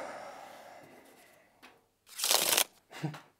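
Playing cards handled and picked during a card game, with soft rustling slowly fading, a small tap, then two louder bursts of card shuffling and snapping up close.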